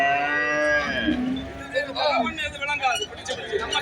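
Cattle lowing at a busy Valliyoor cow market near Tirunelveli, a long drawn moo followed by shorter calls, close and loud over steady crowd chatter and voices speaking nearby.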